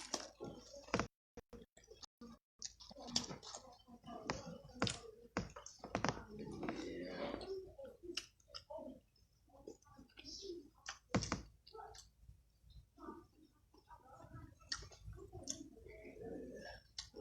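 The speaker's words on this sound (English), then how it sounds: "Typing." Irregular bursts of keyboard typing clatter close by in a quiet room, with scattered clicks, pauses and faint background murmur.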